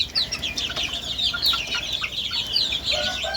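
Young chicks cluck and chirp in a steady, busy chorus nearby, with overlapping calls and no talking.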